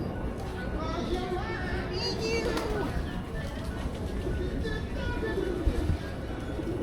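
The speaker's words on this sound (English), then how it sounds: "I fed the pigeons." Pigeons coo softly in a busy outdoor square in Old San Juan, their low warbling calls mixed into crowd chatter and children's voices.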